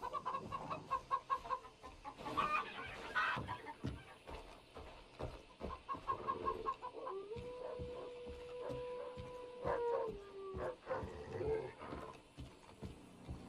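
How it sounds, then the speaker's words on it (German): Chickens cluck and squawk repeatedly in the Far Cry 3 game world, nearby and fairly clear, mixed with other game noises and a drawn-out tonal call partway through. "Hühner!"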